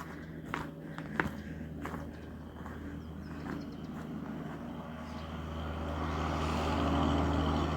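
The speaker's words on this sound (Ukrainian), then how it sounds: "Напевно, назад їде трактор, горнуть дорогу." A tractor that has been clearing snow from a rural road on a cold, sunny winter day drives back. Its low engine rumble swells steadily from faint to loud as it approaches, after a few crunching footsteps early on.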